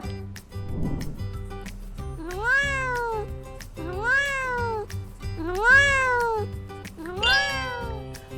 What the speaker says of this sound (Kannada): ಮಿಯಾವ್ ಅಂತ ಸೌಂಡ್ ಮಾಡೋ ಆನಿಮಲ್ ಯಾವುದು? ಕ್ಯಾಟ್.